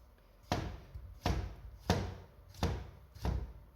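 Five firm, evenly spaced chops of a thin Dalstrong veggie knife cutting through vegetables onto a board, each a sharp close knock with a short tail, no talking.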